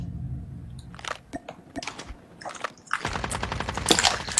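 Gunfire from a shooting video game arrives as a few scattered sharp shots and then a denser burst of rapid rattling fire near the end, fairly close and moderately loud, with no talk over it.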